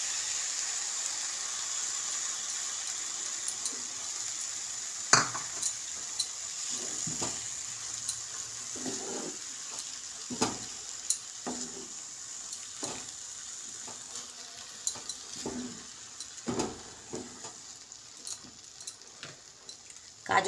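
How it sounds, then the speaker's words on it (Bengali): Carrot halwa with condensed milk cooks over a low gas flame, a faint steady sizzle broken by scattered scrapes and taps of stirring through the whole stretch. "গ্যাসের আঁচটা আস্তে করে আমি গাঢ় দুধটা দিয়ে দেবো।"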